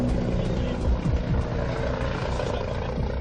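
A helicopter's steady rotor and engine drone fills the whole stretch, loud and continuous, over the A63 motorway near Bordeaux, with a voice talking faintly underneath.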